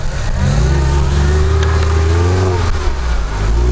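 A car engine revs hard while the vehicle struggles to push through deep snow, a loud, close, sustained roar that rises and falls in pitch.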